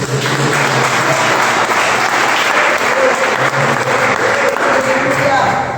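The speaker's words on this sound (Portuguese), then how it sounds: "Você pode aplaudir ao Senhor." Church congregation applauding during a worship service, a loud, continuous roar of many hands clapping that stays steady throughout with voices mixed in beneath.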